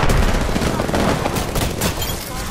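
Rapid bursts of gunfire and booms from an Apex Legends firefight, including a Peacemaker shotgun, crackle densely and loudly throughout the short stretch with no quiet gaps.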